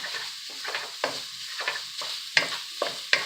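Chopped sausage frying in a hot pan, a constant sizzle with rhythmic stirring strokes and spatula scrapes, several sharp clicks against the pan, close and unaccompanied by speech.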